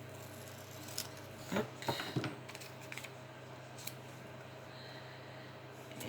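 A few brief snips of scissors trimming the bottom of a photo for a stamped embellishment craft strip, close and quiet against a steady room hum, with a single short spoken word.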